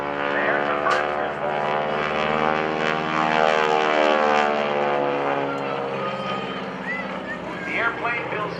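A propeller-driven airplane, a 1938–1945 advanced trainer, flying an aerobatic Cuban eight at a naval air station airshow, its engine droning loud and steady with a shifting pitch throughout, commentary voices faintly beneath.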